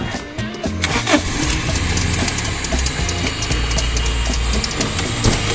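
A van engine cranks with a ratcheting whir, catches, and settles into a steady, low idle close by.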